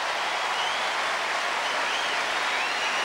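Stadium crowd at the 2002 Commonwealth Games in Manchester clapping and cheering after a women's pole vault, a dense, steady wash of applause with faint whistles over it.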